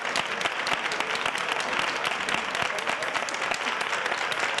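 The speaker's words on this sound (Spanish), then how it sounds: "quiero que le demos, Roberto, un fortísimo aplauso a esta gran actriz" A television studio audience gives a strong, dense round of applause for an actress, loud and continuous throughout with no voices over it.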